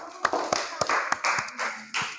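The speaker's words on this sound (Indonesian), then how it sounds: "Tepuk tangan." Children clapping together in an elementary school classroom, a quick series of sharp, uneven claps close by, with faint voices mixed in.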